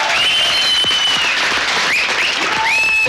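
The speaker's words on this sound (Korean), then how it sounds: "승객들과 함께 파리로 돌아온 부대원들에게는 힘찬 성원의 박수가 쏟아졌습니다." Hearty applause greets GIGN commandos returning to Paris with rescued hostages after the 1994 Air France hijacking, a dense steady clatter of many hands with whistling tones riding over it throughout.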